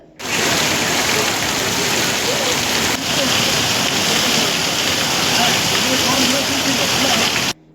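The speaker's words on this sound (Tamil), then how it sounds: "சென்னை சுற்று வட்டாரத்தில் உள்ள பல பகுதிகளில் இடியுடன் கனமழை பெய்தது" Heavy rain pours down in Chennai during a thunderstorm, a dense, loud, steady roar of water that starts abruptly and holds constant before cutting off.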